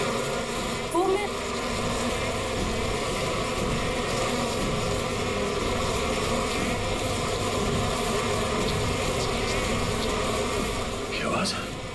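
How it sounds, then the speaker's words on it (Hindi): A dense swarm of bees buzzes steadily and loudly for the whole stretch, a continuous droning hum without pauses, up close and with no clear speech over it. "किसी ने मधुमक्खी को छेड़ दिया क्या?"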